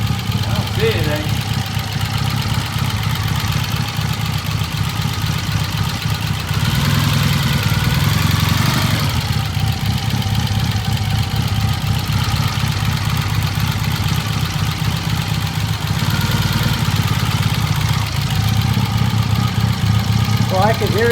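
A 1978 Triumph engine running steadily in gear at close range, a continuous mid-pitched drone with a knocking rattle in it, swelling briefly in the middle as the bike moves back and forth.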